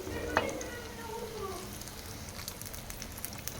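Mirchi bajji, batter-coated chili fritters, deep-frying in hot oil, giving a soft continuous sizzle and bubble. A brief clatter comes near the start, faint voice traces sit underneath, and the frying continues quietly to the end.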